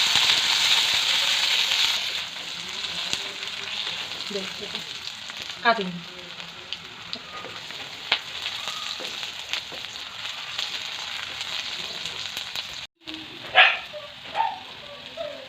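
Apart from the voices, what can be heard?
onions frying in a pan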